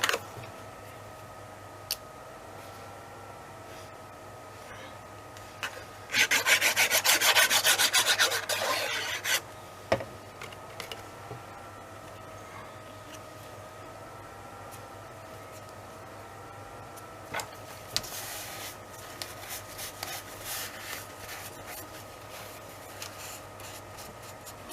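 Paper sheets being glued down for a handmade album, with one burst of brisk rubbing lasting a few seconds, then quieter scattered rubs and light taps against a faint background hum.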